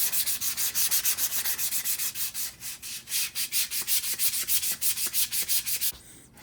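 Sandpaper rubs a wooden axe handle in quick rhythmic back-and-forth strokes, close and steady, pausing briefly midway and stopping near the end, with no voices.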